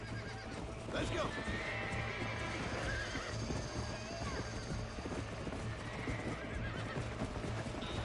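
Horses in the Red Dead Redemption video game whinny and neigh over the steady clip-clop of hooves, with game sounds and a person talking throughout.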